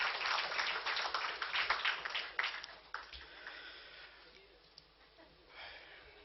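Audience applause at a book event for the essays of a Sri Vaishnava author, a burst of crowd clapping that fades away over a few seconds.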